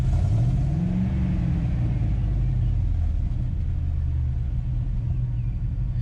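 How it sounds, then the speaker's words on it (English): A car engine, back in after repairs and now running on all cylinders, idles with a low steady rumble and a brief rising rev near the start, then settles into an even drone. "It actually sounds like it's running on all the cylinders now."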